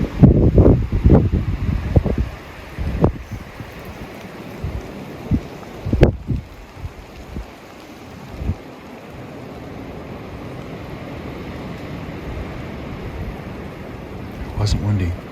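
Strong outdoor wind buffets the microphone in gusty rumbling bursts early on, then settles into a steady lower roar, with a few sharp knocks.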